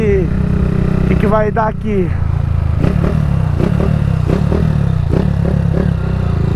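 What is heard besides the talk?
Honda Fan 160 motorcycle engine revving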